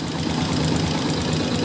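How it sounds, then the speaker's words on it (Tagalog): A TMX 125 motorcycle engine idles steadily at close range, a continuous rough mechanical rumble with no change in pace and no voices. "So yun yung tunog ng motor niya."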